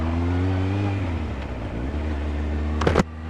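Motorcycle engine idling steadily with harmonic drone close by, then revving as the rider pulls away from a gas station, a brief sharp burst near the end.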